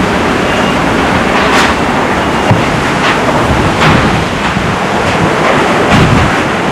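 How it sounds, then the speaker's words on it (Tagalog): Strong typhoon Tino wind at 2 a.m. on Canipo island, a dense, loud roar buffeting the microphone in gusts, with surf crashing faintly along the shore underneath. "Ito na yung hangin."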